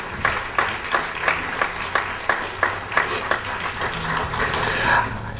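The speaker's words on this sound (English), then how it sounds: "I'd ask for a round of applause for those wives who've made that sacrifice" Guests at a UN Day tea reception clap in a sparse, fairly regular rhythm, each clap distinct and moderately close, swelling slightly into denser applause near the end.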